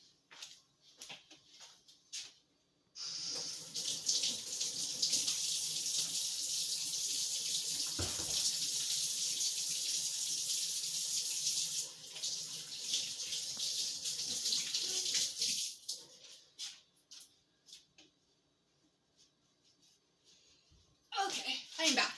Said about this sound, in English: hold on a sec while I wash my hands